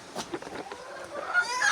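Backyard hens and roosters from a small flock give a few short clucks and calls, close by and fairly faint, with a higher squawk rising toward the end.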